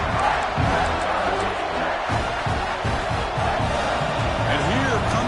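Stadium crowd in a college football video game at Clemson, rising to a loud, sustained roar during a red zone defensive stand, with cheers and whoops over a dense wash of noise.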